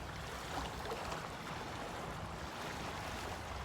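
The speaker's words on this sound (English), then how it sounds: "Can you hear the waves? The water, the lake." Waves wash steadily on Lake Michigan, a continuous broadband rush of water with wind noise, fairly near and even throughout with no talking.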